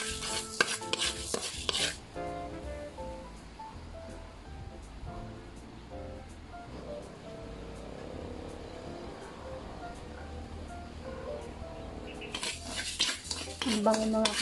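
Rice roasting in a pan for rice coffee is stirred with a utensil, giving repeated metallic scraping and clinking that is busiest at the start and end with a softer rustling stretch between, close up and with no voices.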